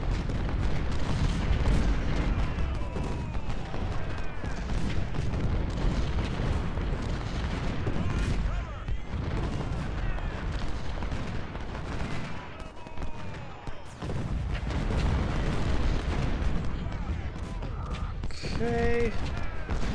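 Musket volley fire and artillery from a Civil War battle in Ultimate General: Civil War: dense, continuous rolling gunfire and booming cannon shots fill the whole stretch, with a few brief lulls, while someone talks over the noise.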